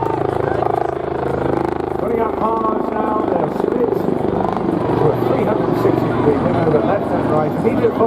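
A Wildcat helicopter flies at an air display, its rotor drone and engine whine continuing steadily while an announcer talks over it.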